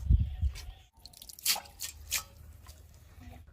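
Water drips off freshly washed banana tree bark in a few scattered wet drops and soft squishy splashes, close and fairly quiet, with a low murmur underneath.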